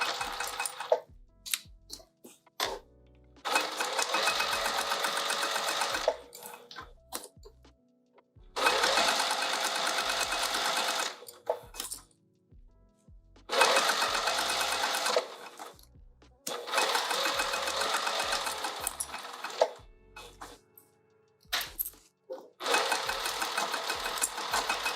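Sewing machine running in long steady bursts while stitching a zipper pouch, each run lasting several seconds and separated by short pauses, close and fairly loud with a few small clicks between runs.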